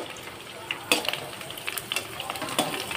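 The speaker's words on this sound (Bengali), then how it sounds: "দিয়ে ফুচকাগুলো ভালোভাবে ভেজে নেব" Fuchka puris sizzle in hot oil, a steady crackling fry broken by sharp clinks and scrapes of a utensil against the pan at irregular moments, close and moderately loud.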